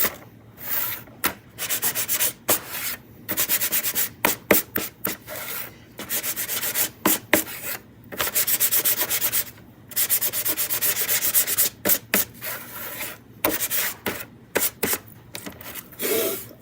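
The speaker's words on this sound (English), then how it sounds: "I'm gonna do just a little light sanding with my sanding block." A sanding block is rubbed lightly over a wooden sign in short, steady back-and-forth bursts of gritty scraping, close and fairly quiet, with brief pauses between strokes.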